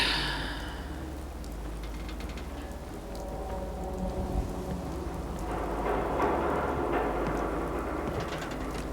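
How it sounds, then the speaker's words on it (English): In the video game Fallout 4, rain falls steadily on Diamond City as a constant hiss and patter over a deep, low rumble of thunder, which swells louder in the second half. "And it's wet and it's... well, when is it not raining?"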